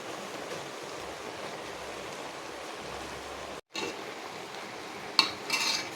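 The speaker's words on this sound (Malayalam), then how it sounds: "ചക്കയ്ക്ക് വേണ്ടി അരച്ചു വെച്ച കൂട്ട് ഇതിലേക്ക് ഇട്ട് കൊടുക്കാം" Ground spice paste goes into a pan of jackfruit and chicken amid steady frying and stirring noise, with a brief cut-out midway and a sharp utensil clink near the end.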